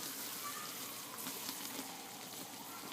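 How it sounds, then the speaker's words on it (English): Homemade sugaring paste bubbles while cooking on a stove, a faint, soft, continuous crackle and fizz of popping bubbles, quiet and steady throughout. "It's kind of crazy, it's a lot of bubbling."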